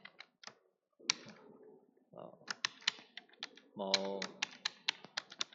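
Bursts of quick, light clicking come from typing on a computer keyboard, close and crisp, mixed with a voice talking in between and over the keystrokes.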